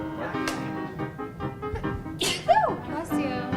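A single sharp sneeze bursts out near the middle, loud and close, amid a bit of background chatter and people talking.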